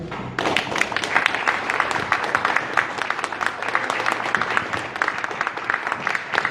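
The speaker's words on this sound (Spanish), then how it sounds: "Fuerte el aplauso a los compañeros y compañeras que pusieron esta actividad sobre la educación pública y la reforma educativa" Applause fills a round-table meeting in defense of public education, with dense, steady clapping from a room of people carrying on throughout after a brief quiet start.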